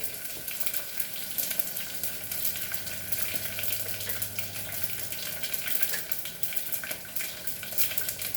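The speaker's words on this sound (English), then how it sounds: "So now we will add our chilies also." Chilies frying in hot oil for a Goan potato bhaji, giving a steady, close crackling sizzle that runs unbroken and fairly loud throughout, with no talking.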